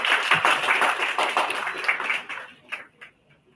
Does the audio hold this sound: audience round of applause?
yes